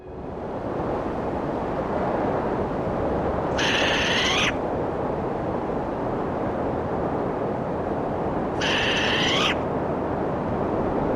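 Short-eared owl calling at Bempton Cliffs, two brief raspy calls about five seconds apart over steady loud wind and surf noise.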